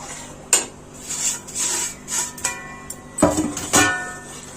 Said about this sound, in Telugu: స్టవ్ సిమ్ లో పెట్టుకుని రవ్వని యాడ్ చేసుకోవాలి. యాడ్ చేసుకొని మొత్తం అంతా కలుపుకుంటుండాలి.